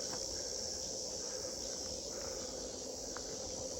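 Summer cicadas buzz in a continuous high, steady drone along a steep forest road on Mindungsan mountain in Jeongseon, moderately faint, with a few short chirps over it and no voices.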